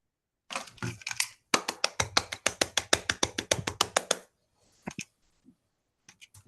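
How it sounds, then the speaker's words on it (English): A handful of people clap after an online academic talk, with scattered claps in a dry, close, slightly clipped sound, a brief pause partway through, then a few last isolated claps. "Let's unmute and give a round of applause."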